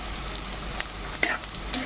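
Onions and curry leaves frying with chicken in a pan, a steady close sizzle with small crackles and pops as the food is stirred.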